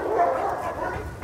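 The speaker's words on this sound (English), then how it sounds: "We had barking dogs" Dogs in a yard give a short burst of barking and whimpering yips, close and fairly loud, with a person's voice mixed in.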